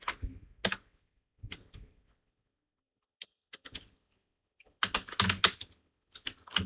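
Typing on a computer keyboard while building a flyer mockup in Photoshop: short clusters of crisp, close key clicks separated by silent pauses, ending in a quicker burst of keystrokes, with no voices.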